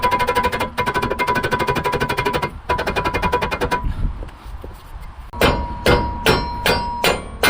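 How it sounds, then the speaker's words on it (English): A mallet pounds a stuck rear brake rotor on a 2006 Nissan Xterra, first in a rapid continuous run of metallic blows, then after a pause in about six loud, separate clanging strikes, close and alone. "I'm gonna get a mallet real quick"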